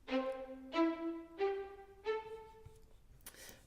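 Four short, bowed Cinematic Studio Strings staccatissimo notes rising step by step in a slow, evenly spaced sequence, each clipped but slightly sustained, quiet and played alone.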